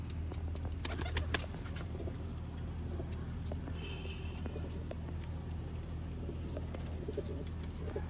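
Pigeons from a Sialkot fancier's loft coo softly and steadily in the background, with a faint continuous low rumble and occasional small bird calls, no talking.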